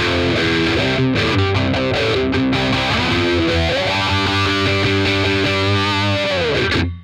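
An electric guitar runs through a fuzz pedal into a Marshall amp for a raw punk tone. Loud, saturated chords and riffs ring out continuously for several seconds, then cut off abruptly at the end.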